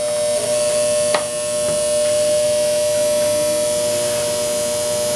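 A 24 volt electric motor runs with a loud, steady whining hum and a strong constant tone, with a brief click near the start and no talking.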